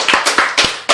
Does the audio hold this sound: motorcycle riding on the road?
no